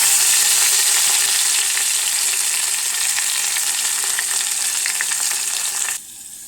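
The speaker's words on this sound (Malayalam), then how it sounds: "ഇനി അതിലേക്ക് നമ്മൾക്ക് ചെറിയ ഉള്ളിയും വേപ്പലയും കൂടി ഇട്ട് കൊടുക്കാം" Shallots and curry leaves frying in hot oil for a mango, drumstick and prawn curry give a loud, steady, close hiss of sizzling that holds evenly before dropping away abruptly near the end.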